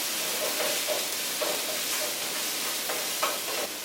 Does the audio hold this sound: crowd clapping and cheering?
no